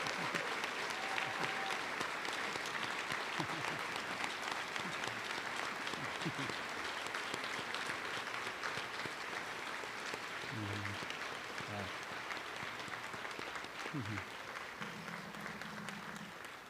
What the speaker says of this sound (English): Would you both please stand so we can give you one more round of applause?